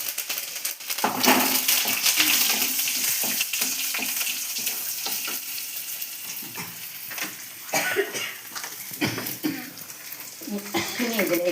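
Curry leaves and shallots sizzle in hot oil in a pan while being stirred for a home-style sambar, a steady close frying hiss punctuated by scraping and clinking of the spoon.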